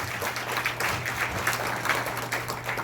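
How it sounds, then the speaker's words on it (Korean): At a political forum on electoral reform in Daegu, the audience breaks into steady, continuous applause, a dense crackle of many hands with a low hum running beneath it throughout. "큰 박수 한번 부탁드리겠습니다"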